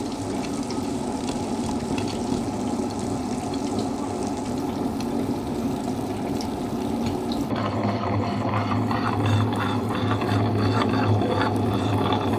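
Steady churning, gritty hum of a wet grinder working black urad dal batter for idli and dosa, continuous and close, with a low motor drone that strengthens partway through.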